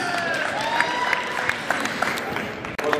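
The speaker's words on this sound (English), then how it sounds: "Round of applause." Crowd at a sports game applauding as players are introduced, a steady dense clapping with some cheering and a voice through a public address system over it.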